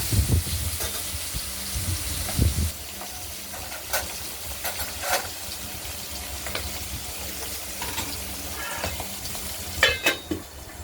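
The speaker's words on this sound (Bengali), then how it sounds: "আঁশ ছাড়া মাছ তেল ছিটে আসবে।" Scaleless bacha fish from the Ganges frying in hot oil, with a steady crackling sizzle broken by sharp splattering pops throughout, close and fairly loud with no talk.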